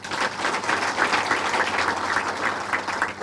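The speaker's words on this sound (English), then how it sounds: "Perhaps you can just give them a clap." A crowd gives a warm round of applause for athletes at a public gathering, steady massed clapping at an even level throughout the short stretch.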